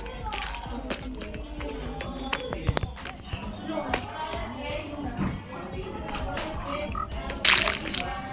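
Frogs croak repeatedly in a Minecraft game world, soft scattered calls under light tapping and shuffling game sounds, with a brief louder burst near the end.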